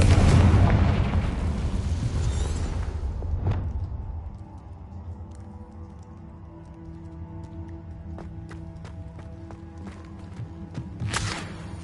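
Explosions from the Confringo fire spell in the video game Hogwarts Legacy: a loud opening blast that rumbles and fades, then a sharper boom and scattered crackling bursts, ending with another burst.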